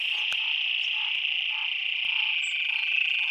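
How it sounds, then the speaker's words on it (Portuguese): A dense chorus of many frogs croaks steadily from a rain-filled water reservoir in northeastern Brazil, forming a loud, continuous, close-up wall of sound with no talking. "Ó, a ruma de rã."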